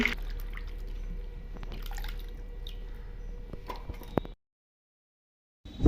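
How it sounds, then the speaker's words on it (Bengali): Grated potatoes are swished and rinsed in a bowl of water for potato chips, giving soft continuous dripping and sloshing close by with small splashes, then a sudden stretch of silence near the end. "3 থেকে 4 বার জল পাল্টে আলতো হাতে ধুয়ে নেওয়ার ফলে আলুর মধ্যে থাকা স্টার্চ অনেকটাই বেরিয়ে আসবে।"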